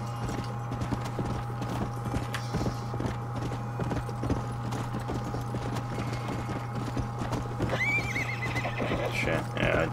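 A horse in the Red Dead Redemption video game neighs and whinnies while its hooves clip-clop steadily over a constant low hum of game ambience, with occasional brief sounds layered in.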